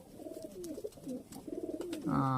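Giribaj pigeons coo close by, soft repeated throaty calls in a steady run over several seconds, rising louder and fuller toward the end.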